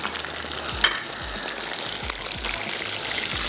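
Tomato paste sautés in a pan for prawn masala curry, a steady close sizzle broken by repeated scrapes and stirs of a spoon.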